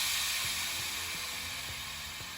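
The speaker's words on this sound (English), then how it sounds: "And that's the sound of all the air flushing out." RecoveryAir compression boots let their air out, giving a steady hissing rush. Soft low thumps and clicks sound underneath as the air flushes from the leg sleeves, with no voices.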